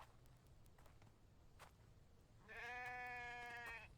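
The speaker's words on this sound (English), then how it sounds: "Probably that stupid sheep." A sheep in a video game bleats once, a wavering nasal cry near the end, after quiet scuffling sounds like soft footsteps.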